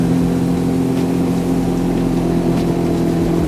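Sea-Doo RXP personal watercraft engine running on a lake in winter, a loud steady droning hum with a low rumble, close and continuous, with a faint voice barely under the noise.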